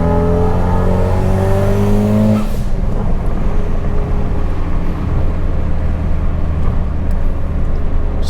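A 2017 Ford Focus RS engine revs up through a rising tone on a test drive, then settles into a loud, steady drone from inside the car, with no talking.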